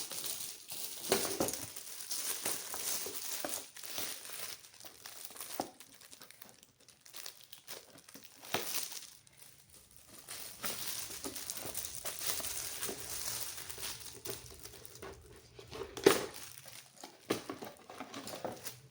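Gift package unwrapped by hand, close crinkling and crumpling of wrapping with tearing rustles and irregular bursts over about nineteen seconds, no talking.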